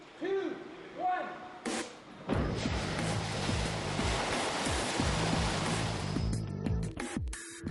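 Hundreds of gallons of water dropped at once from hidden ceiling dump tanks down chutes onto a film set, a sudden heavy roaring gush that keeps pouring for several seconds, preceded by a spoken countdown and with voices around it.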